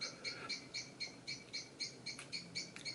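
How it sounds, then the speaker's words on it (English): Birds chirp outside an open window in a steady, rhythmic series of short, high calls, fairly faint over quiet room noise, with no one talking. "Birds are annoying. I've got to have that window open because it's too hot though."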